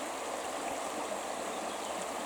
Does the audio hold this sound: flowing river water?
yes